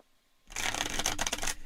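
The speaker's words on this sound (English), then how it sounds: "fan shuffling." A deck of playing cards for the APBA Soccer tabletop game being fan shuffled: after a brief silence, a close, crisp run of rapid fluttering card clicks lasts about a second, heard alone.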